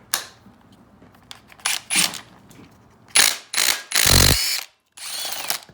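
Ratchet working loose a 27 mm nut on a Yamaha YFZ450, close, sharp metallic clicks and bursts of rasping ratchet action in uneven spurts, separated by short quiet gaps.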